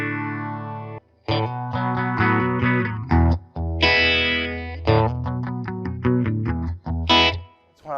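Electric guitar through a phaser pedal into a Fender Princeton Reverb ToneMaster amp, a swirling sweeping tone on strummed chords and short riffs, close and loud with brief pauses.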